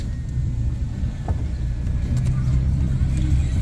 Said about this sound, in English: So as we're driving by the park, we're doing about a cool 6-7 miles an hour.